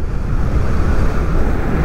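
Strong wind buffets the microphone during a fast ride on a Dualtron Victor Luxury Plus electric scooter, a loud continuous rumbling roar with no talk.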